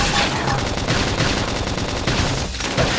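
Rapid, continuous gunfire from a battle in Xenoblade Chronicles X, a dense loud barrage with little pause across a few seconds.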